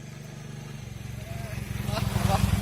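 A toto electric rickshaw being driven: a low, steady motor drone and rattle that grows louder toward the end, with faint vehicle noise around it.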